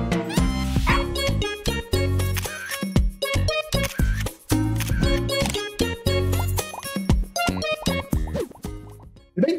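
Playful dog barks and yips from the pet-photography video game Pupperazi, short bright woofs popping over busy, bouncy game music with plopping effects throughout.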